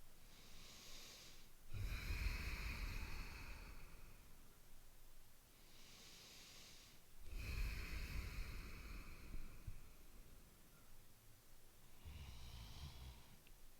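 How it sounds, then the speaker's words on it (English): Deep, slow breaths during a backbend stretch over a yoga wheel, three long breathy inhale-exhale cycles with audible airflow through the nose, close and steady, no talking. "We'll take 3 more breaths."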